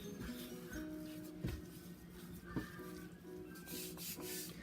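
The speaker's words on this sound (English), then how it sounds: "So now I put my dough on the flour surface and we're going to knead it a few times." Yeast donut dough is kneaded a few times on a floured surface, a faint soft rubbing and pressing with occasional dull thumps, close and quiet with no talk.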